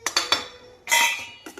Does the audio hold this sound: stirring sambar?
yes